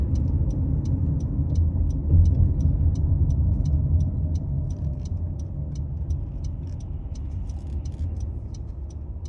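A car drives over a bridge in Glenwood Canyon, a steady cabin rumble of road and engine noise with a regular faint ticking throughout.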